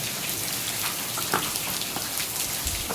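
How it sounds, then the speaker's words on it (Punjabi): Steady rain falls outdoors, a dense even patter with scattered louder drops hitting nearby surfaces. "ਬਾਰਸ਼ ਬੂਰਸ਼ ਜਿਹੜੀ ਪੈ ਰਹੀ ਆ ਬਾਹਰ"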